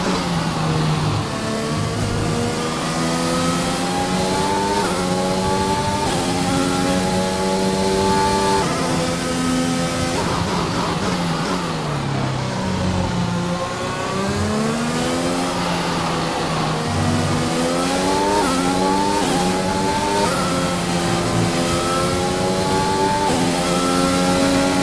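Race car engines scream through a final racing lap, pitch climbing and dropping in repeated rising sweeps as cars accelerate and shift, loud and continuous with no voices.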